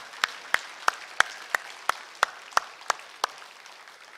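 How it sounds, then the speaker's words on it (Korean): During a New Year's Sunday service in a Korean church, the congregation claps in thanks to God. About ten sharp, evenly spaced claps ring out in a steady beat, then stop, leaving a quiet room. "우리 하나님께 감사의 박수 올려드렸으면 좋겠습니다"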